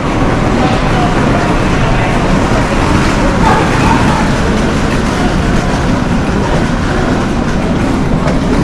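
Ambience of a large railway station on a Shinkansen trip from Kyoto to Hiroshima, with a loud, continuous rumble of trains and rolling rail cars and a broad hiss of traffic-like noise that never lets up.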